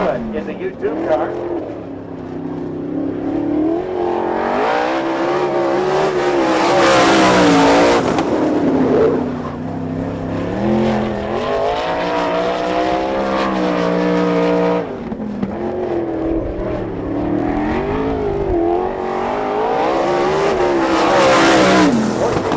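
A sprint car races a lap at Quincy, Michigan in an All Star Circuit of Champions event, its loud engine screaming and swelling in repeated surges as it passes through corners and straights, with announcer commentary underneath.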